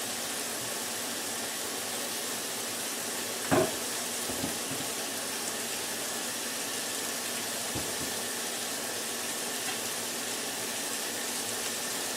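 A tap runs in a steady, even hiss as a slotted spatula caked with ground beef is rinsed off in a kitchen sink, with a few soft clunks of the utensil against the basin.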